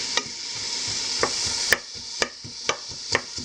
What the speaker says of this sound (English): Let's stir the onions.